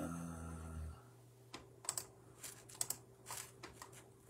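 Computer keyboard and mouse clicks while a rota is looked up at home, a short quiet burst of irregular clicks and taps, near and fairly faint after a brief low hum at the start.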